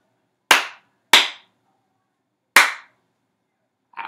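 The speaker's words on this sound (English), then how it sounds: "tell me which rhythm did I clap" Sharp hand claps ring out one at a time in a short, uneven Suzuki-method rhythm pattern from a beginning ukulele lesson, with crisp decays and silence between, followed by a softer sound at the end.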